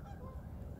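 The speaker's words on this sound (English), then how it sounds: "Oh, the ducks, they're running away already." Ducks honk and squawk as they scatter near a race boat setup, a dense, continuous low clamour of several birds at middle distance.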